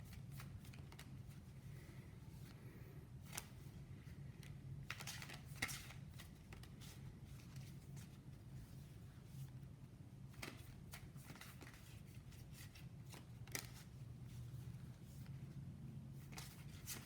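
Tarot cards shuffled by hand to draw a card during a pick-a-card love reading, a faint, steady papery riffle with a few sharper snaps, close and quiet with no voice.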